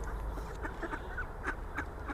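Ducks, one of them limping, quacking in short scattered calls over a steady low background, fairly close, with no talk.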